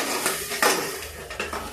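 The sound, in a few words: pouring garlic tadka into cooked arhar dal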